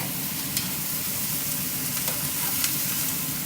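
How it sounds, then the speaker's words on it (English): String beans sear in a hot pan beside pre-cooked shrimp for Szechuan string beans, giving a steady, dense sizzle and crackle with a few sharper pops, close and alone. "while I'm making sure each bean gets seared"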